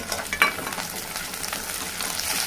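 Mint leaves and ginger-garlic paste fry in a pan for tomato lentil soup, giving a steady, soft, close-up sizzle with a faint crackle early on and no talking.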